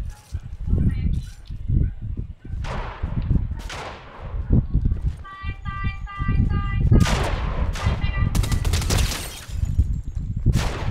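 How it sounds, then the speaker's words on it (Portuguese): Fortnite gunfire crackles in rapid bursts of sharp shots and volleys, loud and close, mixed with game effects and a voice talking over it. "Tem um aqui atirando em mim"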